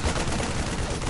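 Rapid gunfire in StarCraft II as units shoot at SCVs, a dense, continuous burst of loud shots rattling without pause, with no talking.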